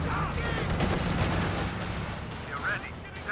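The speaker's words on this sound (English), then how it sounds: "IS-2 does get a good shot there on the Shroom Pioneers" Tank cannon fire and small-arms gunfire from a Soviet IS-2 heavy tank battle in the real-time strategy game Company of Heroes 2, a steady dense rumble of shots and blasts throughout with a voice speaking over it.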